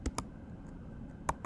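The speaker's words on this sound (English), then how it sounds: "So let's start typing." Several keystrokes on a computer keyboard, a pair of quick clicks followed after a pause by one or two more, moderately close, with no talking.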